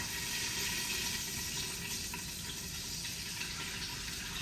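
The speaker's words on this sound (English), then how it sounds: "now I'm going to strain it through this cheesecloth" Warm rendered beef tallow strained through fine organic cheesecloth after a mesh strainer, giving a steady, close trickle of liquid that runs unbroken with no talking.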